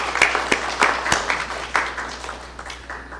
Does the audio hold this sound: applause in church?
yes